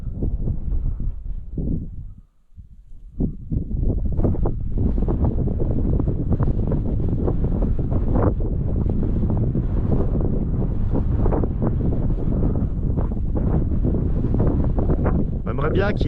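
Strong gusting wind during a thunderstorm roars and buffets the microphone almost continuously, with a brief lull early on before the heavy blustering resumes.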